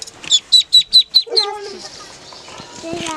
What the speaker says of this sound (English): A lot of birds up in our little play fort.